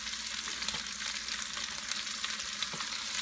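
Turnips sizzle and fry in a pot while being stirred and mixed, a continuous close crackling hiss with a few soft scraping bumps and no talking.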